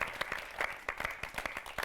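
A studio audience at a televised political poetry show applauds to welcome performers, giving fairly faint, lively clapping with distinct individual claps over a crowd patter.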